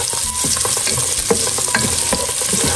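Garlic, onion and ginger stirred in a hot pan, a steady sizzle with repeated scraping strokes of a utensil, close and continuous.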